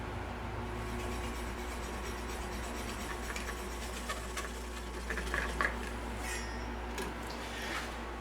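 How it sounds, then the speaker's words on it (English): A small Japanese hand saw rasps through a heavy walnut bowl to part it from a lathe chuck, a steady, faint, close scraping stroke with a few brief louder bursts. "So now I'm going to remove it with a small Japanese saw."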